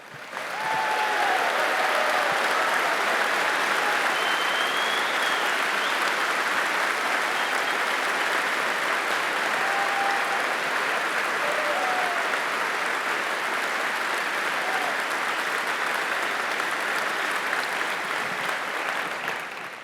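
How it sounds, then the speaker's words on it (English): Keynote audience applause at a large conference hall opening session, a sustained dense wash of clapping from a big crowd, loud and steady for about twenty seconds, with faint whoops scattered through it. "give them a big round of applause?"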